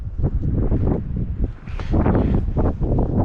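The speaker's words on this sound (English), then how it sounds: "35 miles per hour wind gusts." Strong wind gusts at Red Rock Canyon's North Peak in Willow Springs batter the microphone in rough, roaring bursts that swell and drop several times, close and loud.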